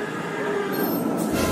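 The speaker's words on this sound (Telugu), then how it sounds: "తాత ఇది మెట్రో ట్రైన్" A metro train rolls close by with a loud, steady rumble and a high wheel squeal that rises near the end.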